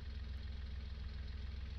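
The diesel engine of an 8530 planting tractor in a multiplayer farming simulator game rumbles at a steady idle, a low, even throb with a faint knocking pulse and no voices over it.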